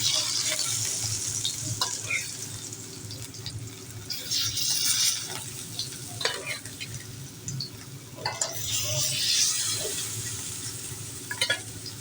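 Pieces of tuna fish frying in a hot pan give a steady broadband sizzle with occasional clinks and stirring scrapes, fairly close, and no talk over it.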